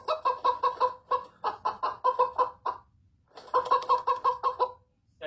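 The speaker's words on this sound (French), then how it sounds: "il y a même la poule qui s'énerve" An agitated hen clucks in rapid, repeated bursts, two loud runs of sharp clucks separated by a short pause, close to the microphone with no talking.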